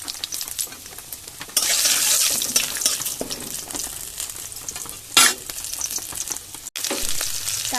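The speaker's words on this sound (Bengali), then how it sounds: "তেল গরম হয়ে গেছে, প্রথমে দেব তেজপাতা, তারপরে দেবো 5 ফোড়ন" Bay leaves and five-spice seeds fry in hot oil, giving a loud, steady sizzle with crackling bursts and a scrape or two of stirring, cooked in a dark kitchen during a power cut.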